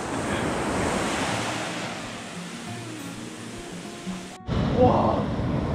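Ocean waves wash onto the shore with a steady surf roar and wind buffeting the microphone, a louder surge building near the end, close by and with no talking.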